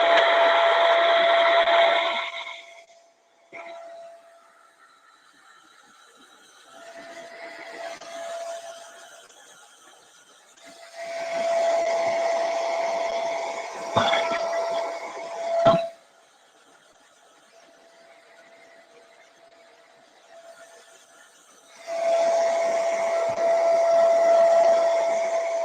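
A hair dryer set on low, used to dry stain on a kitchen art piece, blows in several separate bursts of airy hiss with a steady whine, with quiet pauses between them.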